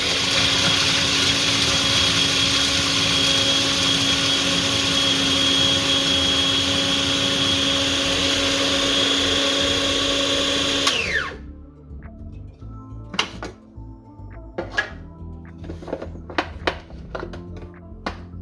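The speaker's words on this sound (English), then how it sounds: "So I'm just gonna blend them." A food processor whirs loudly and steadily as it chops pecan nuts, then cuts off abruptly, leaving faint clicks and handling knocks in the quiet that follows.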